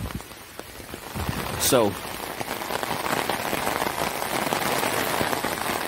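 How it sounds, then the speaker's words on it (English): Steady rain patters across surfaces during a December storm, building into a dense, continuous hiss, while someone speaks briefly near the start. "Looks like the rain's going to start picking up a little bit."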